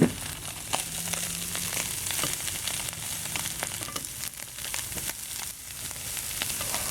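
Bean sprouts and onions frying in a pan for Chinese pork sausage fried rice, a continuous hissing sizzle with crackles and pops, stirring scrapes throughout.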